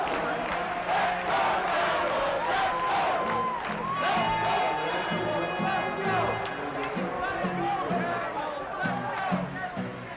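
Hockey crowd in an arena in Dubai cheering and whooping loudly and continuously, with a steady roar of babble and shouts throughout and a rhythmic chant or drum-like pulse underneath.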